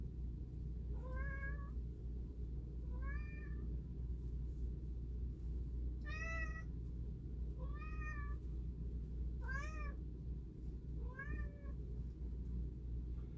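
A house cat meows six times, clear and evenly spaced about every two seconds, over a steady low rumble of background noise.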